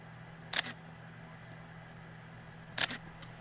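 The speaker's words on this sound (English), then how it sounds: "side by side comparison of the shutter sound" Two separate Olympus E-M5 Mark III shutter clicks, each a short crisp snap about two seconds apart, heard close against a quiet room with a low steady hum and no talking.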